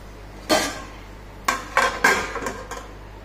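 A lid is set back onto a pan of rava upma cooked with urad dal, giving a sharp metallic clank followed by several quicker clinks and rattles as it settles, close and clear with no talking.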